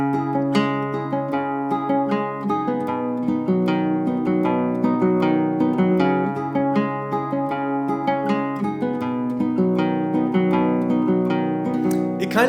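Fingerstyle acoustic guitar plays at a brisk pace, a steady run of plucked notes and chords with no talking over it.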